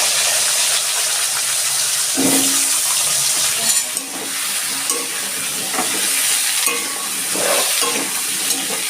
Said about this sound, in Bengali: আমার আলু ভাজাটা